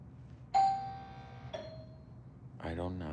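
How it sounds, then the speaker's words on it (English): A doorbell chimes twice, a bright ding followed by a second softer tone, and a voice starts talking near the end. "I don't know who's ringing my doorbell right now."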